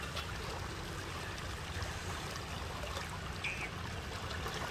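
Rainwater rushing through a broken earthen bund in a paddy field after heavy rain, a steady broadband flowing and trickling wash, close and continuous with no voices.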